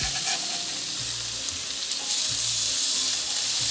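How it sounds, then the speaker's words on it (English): Sausage patties fry in a pan for breakfast muffins, a dense steady sizzle close by, with a few soft thuds as they are turned over. "we'll go on and flip over our sausage patties"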